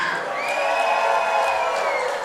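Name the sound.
wrestling crowd cheering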